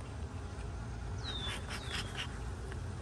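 Honeybees hum in a steady, dense buzz around an open hive during a nectar flow, close and constant, with a couple of faint higher chirps rising briefly above the drone.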